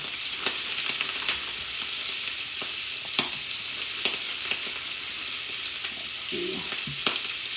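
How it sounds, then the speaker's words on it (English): Pre-cooked cocktail shrimp sautéing in a hot pan, a continuous moderate sizzle with scattered pops and occasional stirring clicks; a voice speaks briefly. "really we're just sauteing them to get a nice little crispy edge on them"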